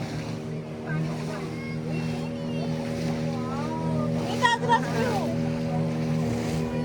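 A motorboat speeding across the sea, its engine droning in steady tones over rushing water and wind, while people talk and a voice rises briefly in the middle.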